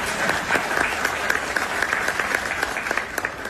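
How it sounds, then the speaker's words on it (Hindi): An audience applauds in a TV studio, a dense, steady wash of clapping at full volume with sharper individual claps standing out, and a faint voice underneath. "ताली बजा के आशीर्वाद दे जाओ"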